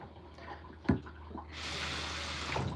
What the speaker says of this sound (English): I'm getting the bottle filled up first. We go half warm water and half just tap water.